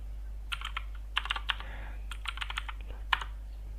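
Keys on a computer keyboard clatter at moderate distance as a command is entered, in irregular bursts of quick taps with short pauses between them over a low steady hum.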